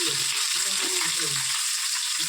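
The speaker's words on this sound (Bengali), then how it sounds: "আর এই যে মাছ ভাজছি এই যে মাছটা একটু ভেজে নিই" Fish frying in hot oil in a pan, a dense, continuous close hiss and crackle of sizzling that stays level throughout, with faint low clatter beneath and no speech.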